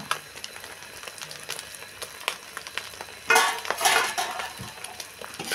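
Beans, carrot and capsicum are stirred in a hot pan, giving a soft steady sizzle with scattered utensil clinks and a louder burst of scraping and frying toward the end.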